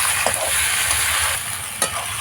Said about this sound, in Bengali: পেঁয়াজে হালকা রং ধরে এসছে এই পর্যায়ে চিকেনটা দিতে হবে ম্যারিনেট করা চিকেনটা